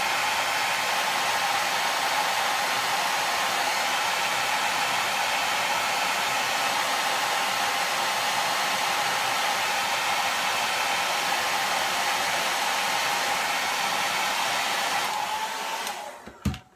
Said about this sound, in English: I'm going to hit it with the blow dryer. Be sure to use the high setting